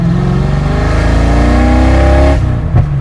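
A cheap Fox Body Mustang GT with a very loud exhaust roars up through a long rev, its droning note climbing steadily before cutting off sharply, then a short blip follows.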